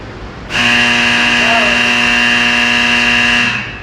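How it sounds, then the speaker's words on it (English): A loud, steady electronic klaxon fire alarm at the Titan Missile Museum blares suddenly, holding one harsh buzzing tone for about three seconds before cutting off. "A very loud klaxon fire alarm."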